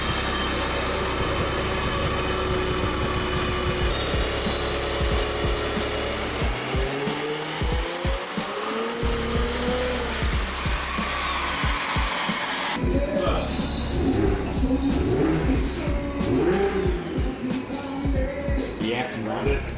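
A fully built BMW N54 single-turbo engine with port injection, pin crank hub and flex fuel revs hard on a dyno, a loud sustained roar sweeping up in pitch, then a rougher, pulsing run, with voices faintly under it.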